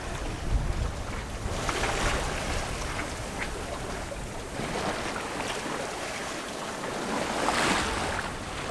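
An old monohull sailboat moving at about five knots in twelve knots of wind, with a steady rush of wind and water around the hull, continuous and fairly loud, and gusts buffeting the microphone.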